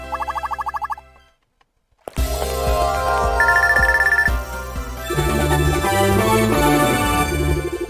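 An in-game telephone in the city-building game Metropolismania 2 gives a short pulsing electronic ring at the start. After a brief silence, upbeat game music plays.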